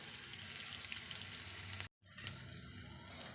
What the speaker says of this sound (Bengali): ঘিটা গরম হয়ে গেছে এখন ঘিয়ের মধ্যে দিচ্ছি হিং